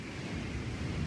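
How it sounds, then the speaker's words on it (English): Ocean waves washing steadily in the background outdoors, a soft continuous rush with a faint low rumble and no voices. "I can also hear the waves. You can probably hear them too in the background."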